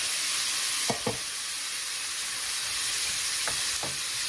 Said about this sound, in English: And now we put the hearts back in the pan.